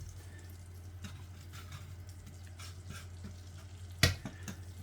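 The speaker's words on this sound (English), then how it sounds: "get the flour in there. And we've got to work it into a paste." Flour is stirred into a paste in a pan for chicken and bacon pasta, a faint low sizzle under soft scraping strokes, with one sharp knock near the end.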